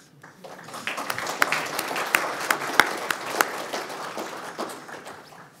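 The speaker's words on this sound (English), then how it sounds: "Can we get a round of applause for freedom of speech in this country?" Audience applause at a mosque event on Islam against terrorism, a dense wash of many hands clapping with a few sharper, louder claps standing out, steady throughout and free of talk.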